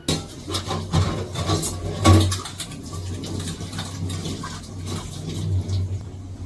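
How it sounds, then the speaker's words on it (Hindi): Dishes being washed at a home kitchen sink: close clinks and scraping of utensils and pots with running water, intermittent clatters throughout and a sharper knock partway through, with no talk. "यहाँ पे बर्तन वॉश कर रही थी"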